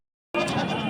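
After a moment of silence, a single sheep gives one short, loud, close bleat at a goat and sheep livestock market in Wyndhamganj, on the Jharkhand and Uttar Pradesh border.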